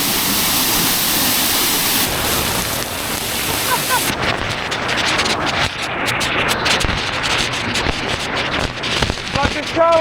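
Waterfall in Thailand pours as a loud, steady broadband roar of rushing water that fills the scene throughout, with people talking close by over the noise.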